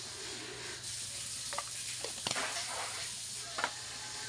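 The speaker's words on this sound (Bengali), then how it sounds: "আমি থোড় ভাজাতে একটু করে লঙ্কা গুঁড়ি দিয়ে দিচ্ছি" Banana stem frying in a pan with a little chili powder added, giving a soft, steady sizzle with a few brief clicks and pops from stirring.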